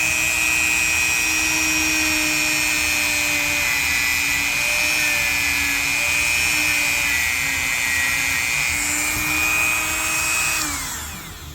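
A spinning power wheel grinds rust off a knife blade, a steady high whine with a constant hum that holds for about eleven seconds before winding down at the end.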